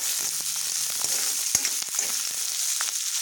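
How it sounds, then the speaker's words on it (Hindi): Garlic and ginger fry in a pan for methi matar malai, a steady close sizzle with occasional spoon scrapes and knocks against the pan. "लहसुन और अदरक और इसे हमें हल्का गुलाबी होने तक फ्राई करने जा रहा है"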